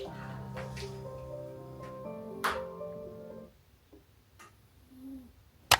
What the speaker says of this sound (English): Oh, there's an owl in the woods.